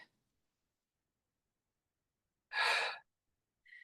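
A single forceful breath out comes mid-way through a standing one-arm weight push in a strength and balance workout, a short close airy exhale in near silence, with a faint breath at the start and end.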